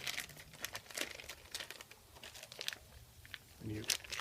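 Plastic packaging around a block of cheese crinkles in quick bursts of crackling and rustling close up, with a brief soft voice near the end.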